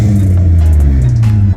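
1990 Ford EA Fairmont engine revving hard, a loud, close, deep exhaust roar that holds steady, then drops off abruptly as the throttle is released.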